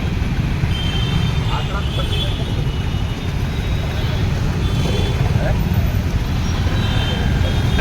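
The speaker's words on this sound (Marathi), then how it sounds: "ह्या पद्धतीने आपण ट्रॅफिक मध्ये अडकलो आहे" Steady, loud road traffic in a city jam, with engines idling and rumbling close by and a constant low roadway drone throughout, no break.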